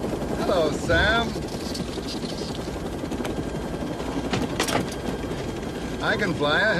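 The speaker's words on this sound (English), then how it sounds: "I can fly a helicopter." A helicopter's steady rotor drone fills the scene, with brief voices and clattering mechanical sounds breaking in over it.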